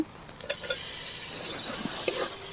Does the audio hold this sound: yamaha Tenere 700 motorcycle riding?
no